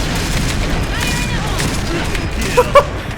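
Gunfire in the shooter game Point Blank forms a dense, continuous rattle, with a couple of sharper shots near the end, while a player talks over it.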